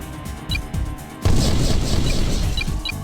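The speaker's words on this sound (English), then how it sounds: "Hostile vehicle destroyed" A hostile vehicle is destroyed in the Heavy Gear mech game: after a quieter stretch, a sudden loud booming blast breaks out and is followed by sustained crackling, rumbling debris.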